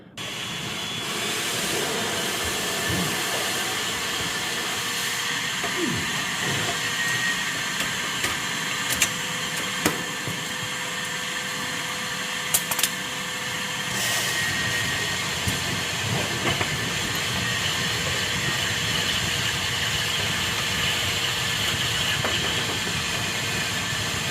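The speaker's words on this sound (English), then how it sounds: "It definitely sucked some fluid into the vacuum." A shop vacuum roars steadily as it sucks hydraulic fluid out of a Kubota LX2610 compact tractor during servicing. The broad, constant rushing noise holds for the full duration, with a few faint clanks and no talking.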